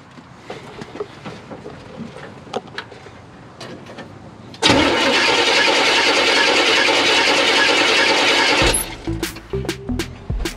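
A car engine cranking with a steady whirring starter for about four seconds, then catching and running briefly before stalling amid clanks, close and loud under the open hood.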